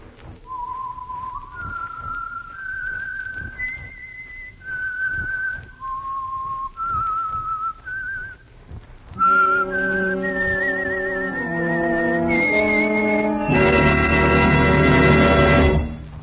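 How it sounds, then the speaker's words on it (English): A clear whistled radio-program theme melody of rising and falling notes, followed by a fuller instrumental passage of sustained tones growing louder. "the signal to listen for is this whistle"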